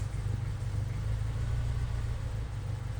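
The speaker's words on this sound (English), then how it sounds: "now it's idling when it has AC" A car engine idles steadily with the air conditioning running, a constant low rumble and hum that stays even and close throughout, with no revving.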